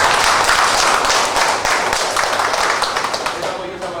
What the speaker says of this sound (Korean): 다 같이 박수 좀 해주세요.